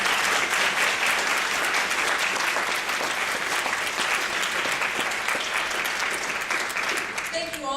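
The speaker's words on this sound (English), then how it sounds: "So let's give a round of applause." An audience at a Durham school readiness summit gives sustained, dense applause from start to finish. The clapping stays loud and even, with no break in it, before it begins to thin at the very end.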